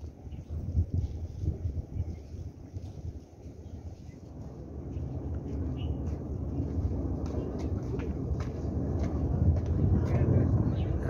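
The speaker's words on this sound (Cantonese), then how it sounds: "直升機嘅。" A helicopter flies near Victoria Peak in Hong Kong, a broad low rumble that swells steadily louder across the clip, mixed with wind noise and faint voices in the background.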